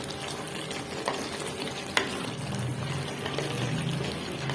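Mixed vegetables simmer and sizzle softly in a pan over a low flame for a dhaba-style mix veg with gravy, with steady frying crackle, occasional stirring scrapes and a couple of sharp utensil clicks, close and without talk.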